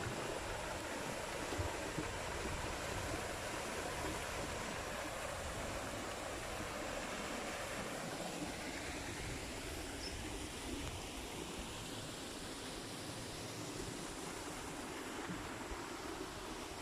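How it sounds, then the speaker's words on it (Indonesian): A waterfall near rice paddies and a fishpond gives off a steady, faint, broadband rushing hiss that stays unbroken throughout, with no voices. "Nah, ada air terjun."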